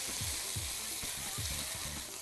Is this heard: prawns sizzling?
yes